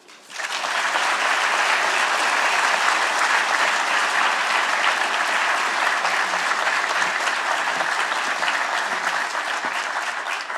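Sustained, steady audience applause fills a lecture hall, welcoming astronomer Alice Shapley to the podium for the Kaufmanis Lecture on galaxy formation; dense, even clapping rises quickly and holds loud for about ten seconds without talk.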